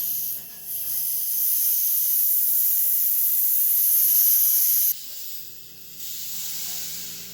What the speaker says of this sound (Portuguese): Eu vou abrir para vocês aqui a garrafa, para vocês verem como tá bem fermentado. Tem que abrir devagarzinho,